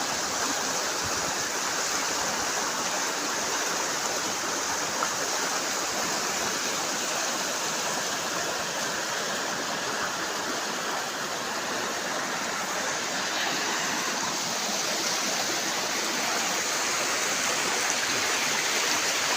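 River water flows steadily in a broad, continuous rush, the current running swollen and muddy as if close to flooding, heard alone and fairly near with no voices.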